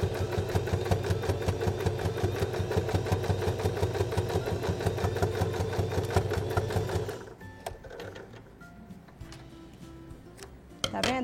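A sewing machine runs steadily for about seven seconds, stitching a straight seam on fabric for a backpack with a fast, even mechanical chatter, then stops, leaving a few faint clicks and handling sounds.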